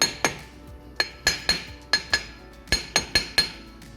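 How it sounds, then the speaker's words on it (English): Hammer striking the rear brake drum of a 2007 Nissan Micra during a wheel bearing replacement: about a dozen sharp metallic clinks with ringing overtones, irregularly spaced and close. "Now all you have to do is give it a little hit on the drum here."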